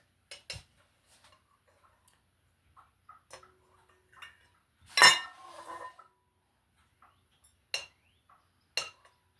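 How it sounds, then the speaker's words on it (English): A metal spoon works through raw eggs in a bowl, picking out the chalazae. Sparse, light clicks and taps sound close up against a quiet background, with one louder scrape-and-clink cluster in the middle. "I'm just gonna grab a spoon and take my little eyes out of the eggs"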